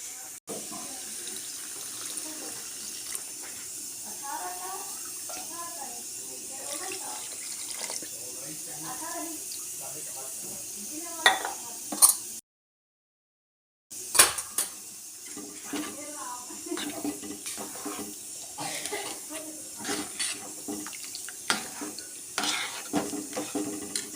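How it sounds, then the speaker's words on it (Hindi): Water running and splashing into a pot in stretches, with clinking cookware and background voices, interrupted by a brief silence midway. "तो हम डाल देंगे इसमें पानी भी।"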